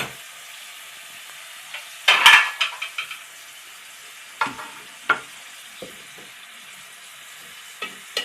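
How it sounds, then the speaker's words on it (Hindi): Chicken in yogurt fries in a pot until its liquid cooks off for white korma, a constant sizzle broken by sharp metal clanks and scrapes of stirring against the pan, no speech. "मैं इसे उस वक्त तक भूनूंगी जब तक पानी खुश्क नहीं हो जाता।"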